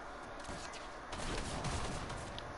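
Bursts of rapid gunfire in an online shooter game, fairly distant and moderately quiet, a short rattling volley that swells midway through.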